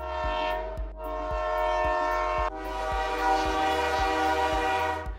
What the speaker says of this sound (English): Using train horns with EQ and reverb to sell distance and panning to sell direction